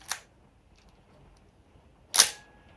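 A Nikon FE 35mm film camera shutter fires twice, two sharp mechanical clicks about two seconds apart, close and crisp, quiet between, no talking.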